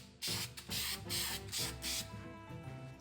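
Bursts of aerosol spray paint coating a diesel heater cover black in a cold garage, several hissing blasts of about half a second each with short gaps between them, close and fairly loud.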